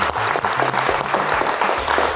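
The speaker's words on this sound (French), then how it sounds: "on est avec Artus, on l'applaudit, incroyable." Lively applause from a studio audience on a French couples quiz show, brisk and steady for about two seconds, with faint cheering or vocal bits mixed into the clapping.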